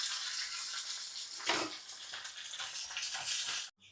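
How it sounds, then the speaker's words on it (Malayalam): Mustard seeds splutter and crackle in hot oil, a steady dense sizzle with a brief louder burst midway, before the sound cuts off abruptly near the end. "ദേ കടുക് പൊട്ടി തുടങ്ങി"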